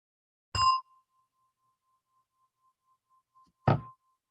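A meditation gong is struck twice, several seconds apart, each hit a clear metallic strike whose pure tone hangs and fades softly into near silence between the strokes.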